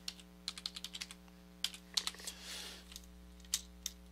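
Close, quiet computer keyboard typing in quick irregular clicks over a steady electrical hum, with a brief rustle in the middle.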